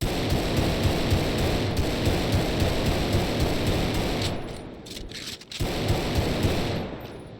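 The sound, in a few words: Glock 17 pistol gunshots in FiveM video game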